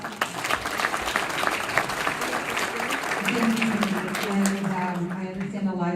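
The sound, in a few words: audience applause at a public forum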